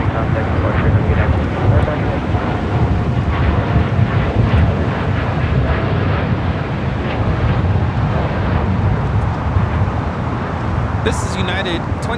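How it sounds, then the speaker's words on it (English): A United 787-10 Dreamliner takes off from LAX bound for Newark with a loud, sustained jet-engine roar. The rumble grows and pulses with wind buffeting the microphone, while a person talks over it. "2614 taking off to Newark on a 787-10 Dreamliner"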